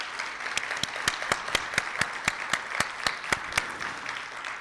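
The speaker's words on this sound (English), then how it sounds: "let's give those students a round of applause" Applause for students at a state education event, a sparse field of clapping with one loud nearby pair of hands striking in a steady, evenly spaced rhythm above the softer crowd.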